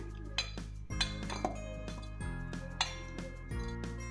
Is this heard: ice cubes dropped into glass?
yes